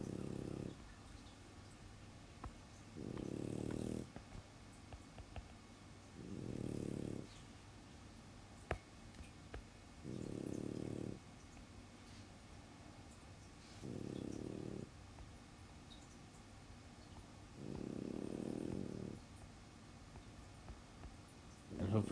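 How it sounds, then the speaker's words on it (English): A dog snores softly indoors, slow rhythmic breaths of about six low rasping pulses spaced a few seconds apart, faint against a quiet room. "Hopefully the sound of Luna snoring is not putting you to sleep."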